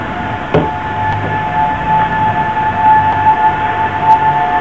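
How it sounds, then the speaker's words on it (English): Tornado warning sirens wailing as a steady distant tone over an urban garden, with a few sharp knocks close by. "now the tornado sirens are going off"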